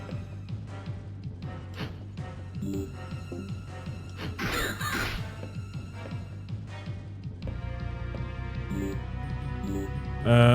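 Crows cawing in the horror dungeon game House of Necrosis, where defeated enemies turn into a murder of crows; repeated harsh caws sound over a steady game music drone, with a louder burst of activity midway and near the end.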